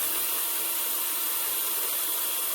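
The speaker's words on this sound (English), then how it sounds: "Drill our hole" Steady, continuous whirring of a drill boring a hole through a wooden moon carving sanded to 220 grit, loud and close with no pauses or voices.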